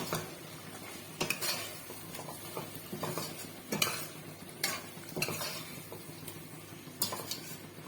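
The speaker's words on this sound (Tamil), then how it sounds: "அதை இப்போ இதில் ஊற்றிடலாம். நம்ம ஊற்றிட்டு நல்லா மிக்ஸ் பண்ணிடலாம்." A ground paste of coconut, cashew and fennel is stirred into chicken gravy with a spoon, giving quiet, close, irregular scrapes and clinks against the pot over a faint simmer.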